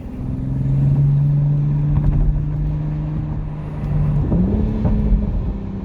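A 2021 Toyota Supra A91 drones steadily while it is being driven, and near the end the engine note shifts with a burst of crackly exhaust popping, all heard close from inside the cabin.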